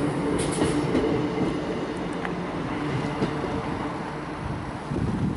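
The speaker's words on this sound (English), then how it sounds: "I think I see a train in the distance" A train rumbles steadily past Manchester Piccadilly station at moderate distance, a continuous low roar of rolling wagons with faint rail clatter and occasional squeaks.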